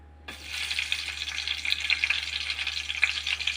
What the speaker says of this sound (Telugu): పచ్చిమిరపకాయలు వేయించుకుందాం.